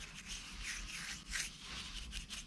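Sandpaper rubbing over body filler on a car panel during bodywork on a 1959 Dodge Coronet, a steady continuous scratchy rasp with small surges, close and alone.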